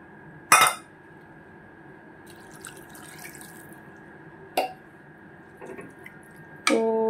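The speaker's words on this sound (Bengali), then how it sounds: "তো এখন দেখো আমি জলটা দিয়ে দিচ্ছি।" Water is poured into a mixed dough or batter in a home kitchen during Bengali cooking, a soft trickling and splashing under quiet room tone, broken by a few sharp clinks of utensils.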